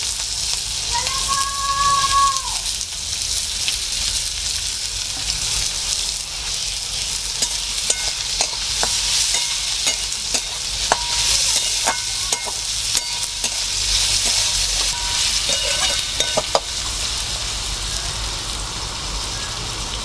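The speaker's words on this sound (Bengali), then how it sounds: "গরম হয়ে গেছে, তেলে গোটা জিরে দিয়ে দিচ্ছি।" Whole cumin seeds and chopped onion sizzle loudly in hot oil, a dense continuous crackle like heavy rain with a few scattered pops and utensil clicks throughout.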